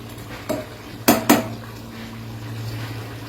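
A lid set onto a cooking pot of chicken leg pieces, giving a soft tap followed by two sharp metallic clanks in quick succession, close by, then a quiet low simmer.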